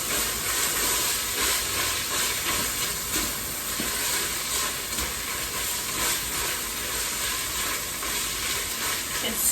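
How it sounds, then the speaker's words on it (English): Italian sausage tortellini soup stirred in a pot, a loud continuous sizzling hiss with soft stirring scrapes throughout, close up and without talk. "Give that a good stir around."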